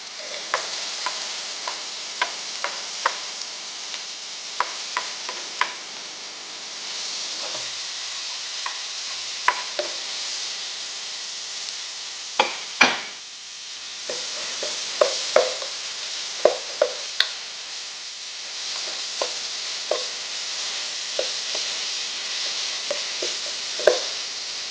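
Garlic, onion and ginger sauté in a pan for bopis, a continuous soft sizzle with a spatula scraping and tapping against the pan at irregular intervals.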